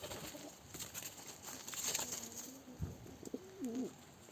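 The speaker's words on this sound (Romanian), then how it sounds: "Aici avem un porumbel, zis porumbiță" Soft, low coos of a female pigeon rise and fall near the end, faint against a quiet background with scattered small clicks and rustles.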